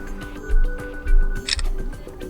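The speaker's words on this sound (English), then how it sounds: "As you can see, the photo has been taken" A Samsung Galaxy A33 phone camera fires its shutter on a timer, a few short clicks and ticks close up followed by a crisp burst of the shutter sound.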